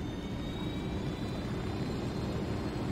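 Helicopter engines in the video game Ghost Recon Wildlands: a steady, dense rotor and turbine roar with a faint high whine, continuous and loud throughout.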